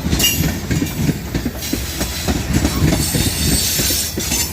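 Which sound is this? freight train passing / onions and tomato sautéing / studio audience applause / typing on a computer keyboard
freight train passing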